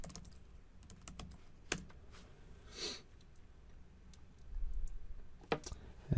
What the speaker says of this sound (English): we'll go back to command prompts and we'll just type in system info